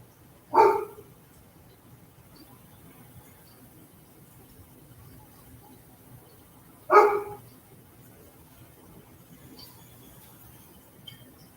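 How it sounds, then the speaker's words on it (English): Dogs on a residential city block bark twice at a distance, single sharp woofs about six seconds apart, with a quiet room and faint street noise between them. "There are also a lot of dogs on my block, kids and dogs."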